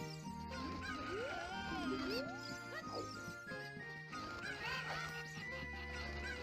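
Chickens in the video game Zelda: Ocarina of Time cluck and squawk in short, high, chirpy bursts over bright game music with tinkling notes, fairly clear and close.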